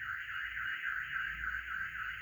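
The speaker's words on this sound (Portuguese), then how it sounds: "Aí dispara alarme" A security monitoring alarm sounds nearby, a steady, warbling electronic tone that wavers up and down in a regular cycle over a faint low rumble, continuous and moderately loud with no speech.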